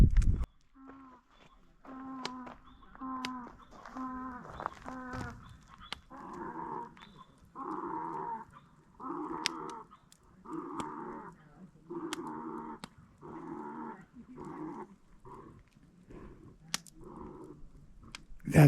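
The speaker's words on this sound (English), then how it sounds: "That donkey is pretty close." A donkey brays close by at a lakeside campsite, starting with a few sharp hee sounds and then a long run of rhythmic, rasping haw-hee cycles heard clearly over quiet surroundings.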